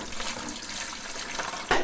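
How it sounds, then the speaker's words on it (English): Chicken brine poured into a container for roasting chicken, a steady close splashing rush of liquid lasting the whole moment, swelling briefly louder near the end. "we're gonna take our brine, the deliciousness of it all, and pour it right in"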